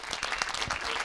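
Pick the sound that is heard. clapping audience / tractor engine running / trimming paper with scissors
clapping audience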